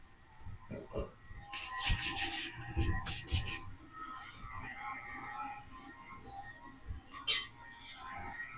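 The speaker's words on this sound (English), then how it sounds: "I'm gonna scrape it down one more time." Something is scraped down with a few rough rasping strokes close by. They come in short bursts with pauses between and sit over low background noise.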